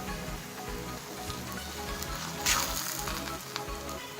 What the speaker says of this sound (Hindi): अब हम इस पर पराठा डाल देंगे। स्लो फ्लेम पे हम इसे पकाएंगे।